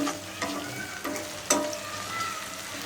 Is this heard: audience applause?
no